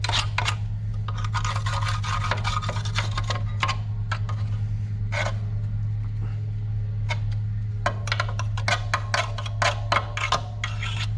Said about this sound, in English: I can move the stuff away from me as I'm scraping.